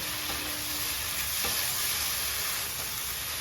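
Fish curry spice paste sautéing in a pan, making a steady, even hiss of frying that stays constant throughout with a faint stir or two.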